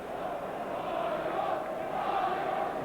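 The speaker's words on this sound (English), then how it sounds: "a huge cheer for 18-year-old Quincy Owusu-Abeyi" A football crowd at an Arsenal home match against Wolverhampton Wanderers in the 2004/05 FA Cup fourth round roars in a sustained, broad cheer, with a match commentator's voice over it.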